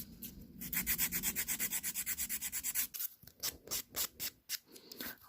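Close, quick rhythmic rasping of a nail file reshaping fake acrylic nails, a steady run of short strokes that turn into slower, spaced-out strokes.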